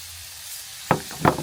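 Cut cauliflower and new potatoes drop into hot frying spice paste: after a quiet moment, two sharp bursts of sizzle and clatter land close together, each fading into a crackling fry.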